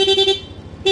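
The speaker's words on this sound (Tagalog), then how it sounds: "stock horn lang yon, naka rapid din" A stock horn on a 2021 Yamaha NMAX V2 scooter set to rapid mode gives three quick loud beeps, a short pause, then another blast, close and alone.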